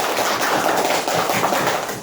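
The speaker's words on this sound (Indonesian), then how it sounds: "Beri tepuk tangan untuk kelompok 3 ya." Classroom of students clapping for a group that has just presented, a dense, steady patter of many hands at close range with no talk over it.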